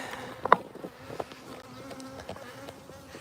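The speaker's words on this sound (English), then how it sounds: "Now, you see these bees, they're cleaning each other off." Honey bees buzz close by after a honey harvest, a soft continuous drone with a few sharper, louder buzzes as individual bees pass near.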